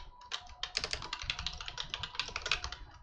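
Fast, steady typing on a computer keyboard, with quick close key clacks in an uneven, busy rhythm, fairly quiet and with no voice over it.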